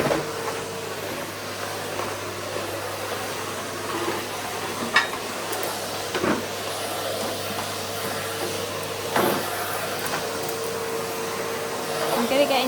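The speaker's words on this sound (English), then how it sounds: "You might want to switch your volume down while I'm vacuuming" Vacuum cleaner running steadily across a floor, a constant broad whooshing drone with occasional bumps and clicks as it moves, close and continuous throughout.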